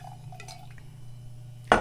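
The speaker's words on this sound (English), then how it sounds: "And you just pour it in the glass." French wine trickles quietly into a glass with a soft liquid gurgle and faint drips, ending in a brighter, louder splash and clink of glass.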